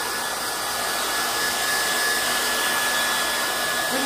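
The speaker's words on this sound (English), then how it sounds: "I'm just gonna blow dry" A hair dryer blows steadily and loudly on a wet painting for several seconds, a continuous close-up whoosh with no voices.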